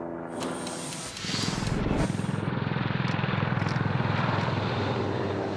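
A loud, steady military assault and transport helicopter engine drone with a rapid rotor thump, rising in the first second and then holding close and constant.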